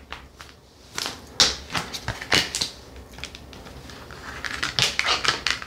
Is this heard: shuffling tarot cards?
yes